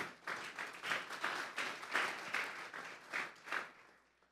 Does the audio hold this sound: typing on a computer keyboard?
no